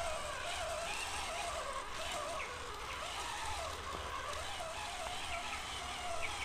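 A large 1:12 scale Eachine EAT06 RC tank drives at full speed over flat ground, giving a steady, dense whirring and grinding rush that holds an even level throughout.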